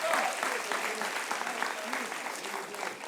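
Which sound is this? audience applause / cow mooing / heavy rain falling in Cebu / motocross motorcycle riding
audience applause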